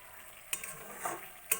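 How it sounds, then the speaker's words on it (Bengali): Spice paste for a cabbage kofta curry fries in oil while being stirred: a quiet, soft sizzle broken by a couple of sharp spoon scrapes against the pan. "আমার মশলাটা একদম কষানো হয়ে গেছে আর তেলও ছেড়ে দিয়েছে মশলা থেকে"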